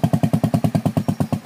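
A motorcycle engine is revved in a quick, even rhythm of about a dozen throttle pulses in under two seconds, loud and close with a low chugging beat while someone rides on grass.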